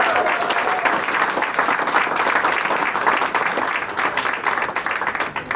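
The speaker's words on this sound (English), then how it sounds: "So let's give her a huge round of applause." A big audience at an honors ceremony breaks into sustained, dense clapping that holds steady, loud and close, for the whole stretch with no pauses.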